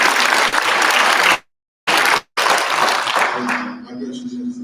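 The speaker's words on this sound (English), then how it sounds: "Give me a hand clap." A crowd claps loudly at a convention panel at a pop culture expo, with dense, sustained applause broken by two brief cuts before it fades under a low steady tone.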